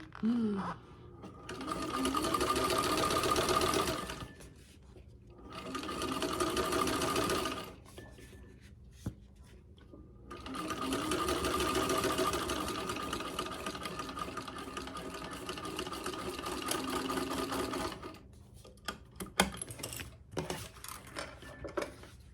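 A 1952 Singer sewing machine stitches a fabric pouch in close, loud bursts of rapid mechanical clatter, running about five seconds, pausing, then running again for several seconds before stopping amid small handling clicks.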